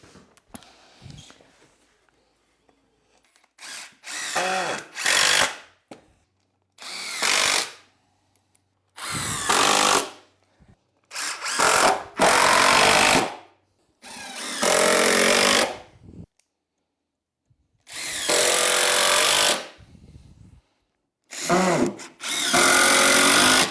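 Power drill driving screws into a wooden raised planter box outdoors, with repeated loud bursts of whirring, each lasting one to two seconds and separated by short pauses, close to the mic, with no talking.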